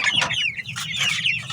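Broiler chickens on a farm cluck and chatter in quick, close bursts, a few birds calling over one another in a short busy flurry.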